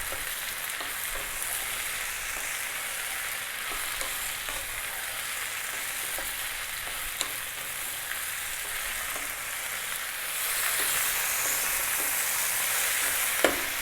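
Bell peppers and mushrooms fry in a pan with a steady, broadband sizzle that runs unbroken throughout. Occasional faint stirring clicks sound, and the hiss grows slightly louder and brighter near the end.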